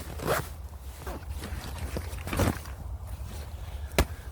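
A clamshell gear bag zipped closed, the zipper giving a few near, rasping pulls with brief pauses and a short sharp tick at the end.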